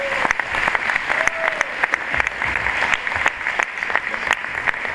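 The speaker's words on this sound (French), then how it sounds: "Sous vos applaudissements s'il vous plaît." An audience at a TEDx event applauds a media director taking the stage, dense and lively clapping close by for the full stretch, with some crowd murmur mixed in.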